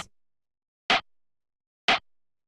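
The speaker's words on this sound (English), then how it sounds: "Just like a standard kind of like drum machine rim shot" A drum machine rim shot sample sounds three times at roughly one-second intervals, each a short, sharp, bright click with a quick decay, isolated against silence.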